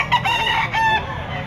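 A young rooster (stag), white-legged, crowing at an outdoor pet and poultry market, one loud, close, drawn-out crow over busy background noise.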